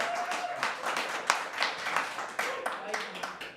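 Audience members clap at a city council meeting, a loose, moderately sized round of applause with uneven hand claps that carries on steadily throughout.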